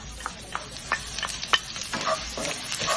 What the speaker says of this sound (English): The cumin is starting to color and sizzle a little bit.